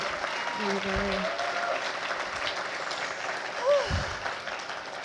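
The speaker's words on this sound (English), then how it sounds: "Please, a round of applause for our opening speakers this evening." An evening audience at a centennial event applauds the opening speakers, with sustained crowd clapping filling the hall while a few brief voices and a short whistle-like tone sound over it.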